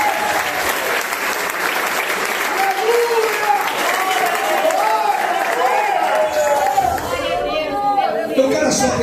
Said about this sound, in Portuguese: Quem crê nesta palavra, bate as palmas para Jesus bem forte.